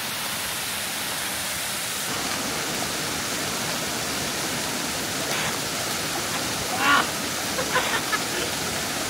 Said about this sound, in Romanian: Uitați ce cascadă mișto în scări